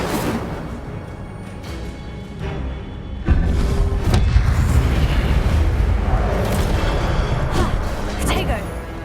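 Incendio fire spell in Hogwarts Legacy on PS5, a sudden loud roaring burst of flame followed by sustained crackling fire and booms, under frequent speech.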